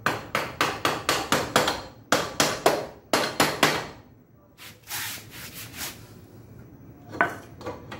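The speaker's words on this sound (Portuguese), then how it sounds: "pegar o martelo do Thor aqui pra poder dar uma batidinha lá e ele vir pra encaixar no lugar aqui" A hammer tapping a part into place on a bicycle battery pack, sharp repeated blows in quick bursts of several strikes close by, followed by softer scraping and a few lighter knocks.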